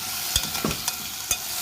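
Potatoes drop into a hot pan and fry with a soft steady sizzle, broken by several sharp scraping stirs at a moderate distance, no talking.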